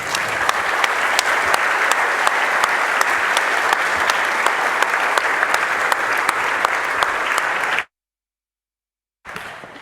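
An audience at an architecture and fabrication conference session gives a steady burst of loud, even applause for the presenters, cut off abruptly by a brief silence before clapping resumes.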